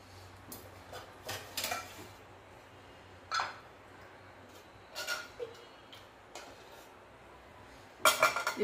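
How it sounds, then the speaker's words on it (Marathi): Cooking oil poured into a kadhai on a gas stove in a home kitchen, heard as scattered metallic clinks and knocks of pots and utensils with quiet gaps between, ending in a brief louder clatter. "आता तेल टाकून घेऊया।"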